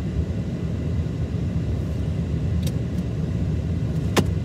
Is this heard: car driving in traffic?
yes